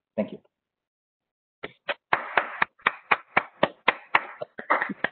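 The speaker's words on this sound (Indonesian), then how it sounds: "Kita kasih tepuk tangan, applause buat Pak Paulus." A short burst of clapping for a speaker at an online leadership webinar: an isolated clap, a pause, then a run of about a dozen sharp, distinct claps, close and fairly loud, like a few hands rather than a crowd.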